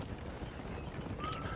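Horse hooves clip-clop in the Red Dead Redemption video game, a faint, steady patter of hoofbeats under a low ambient wash, with no talk over it.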